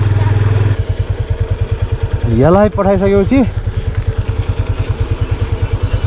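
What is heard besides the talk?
vehicle passing on a snowy mountain road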